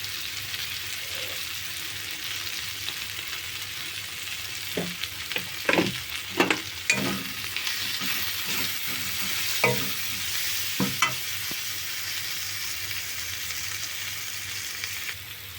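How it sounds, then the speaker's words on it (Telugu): Brinjal curry fries in a pan with chili powder and is stirred, giving a soft constant sizzle with a series of scraping spoon strokes in the middle, clustered then spaced out. "కారం వేసుకున్న తర్వాత తిప్పుకున్నాం కదండి."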